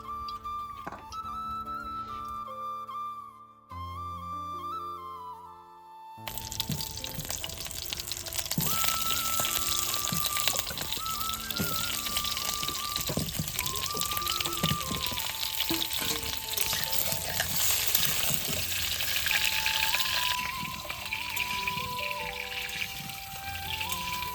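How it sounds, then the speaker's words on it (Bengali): Potatoes fry in hot oil in a wok, a loud, dense sizzle that starts after about six seconds and runs steadily to the end, with music playing throughout. "তেল তো তেতে গিয়েছে মাংসের জন্য এখন আলু কষে নিচ্ছি"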